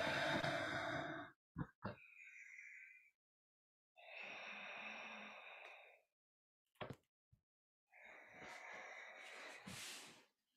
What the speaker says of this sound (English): Breathing deeply here, taking time to explore the fullness of the breath once again.